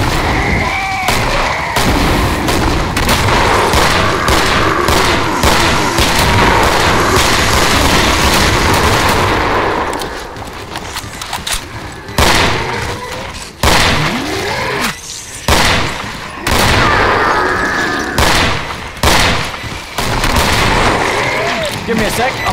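Rapid heavy shots from an EBR rifle in Killing Floor, loud and booming, fired in dense continuous bursts and then in spaced volleys, with voices talking under the shooting.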